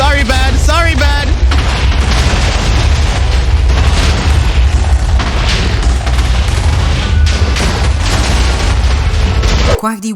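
A TNT explosion in the Minecraft video game sets off a loud, deep boom with rumbling, crackling bursts that carry on for several seconds, mixed with music and voices, then cuts off abruptly near the end.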